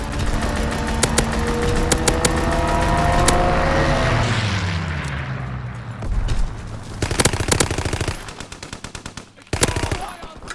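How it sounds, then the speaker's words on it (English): A fighter plane's strafing run in Call of Duty WWII: a roaring engine sweeps past, then bursts of loud, rapid machine-gun fire rattle repeatedly in the chaotic multiplayer battle. "Strafing run inbound."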